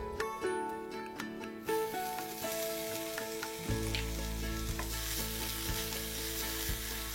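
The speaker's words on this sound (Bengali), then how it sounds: "এগুলো একটু নেড়ে চেড়ে একটু আদা বাটা দিয়ে দেবো।" Lentils being stirred with ginger paste in a frying pan give a steady, close sizzle with scraping stirs throughout, and a deeper frying hiss takes over partway through.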